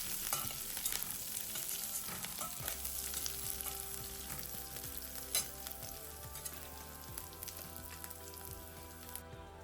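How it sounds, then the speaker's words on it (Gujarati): Green chillies and chopped curry leaves sauté in a pan for a Mumbai-style vada pav filling, a steady close sizzle and crackle with occasional stirring scrapes, running alone without talk. "લીલા મરચાંને બરાબર સાતળવાના અને લીમડી હોય એને ઝીણી ઝીણી સમારીને તમારે એડ કરવી"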